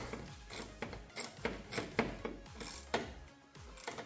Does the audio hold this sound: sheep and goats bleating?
no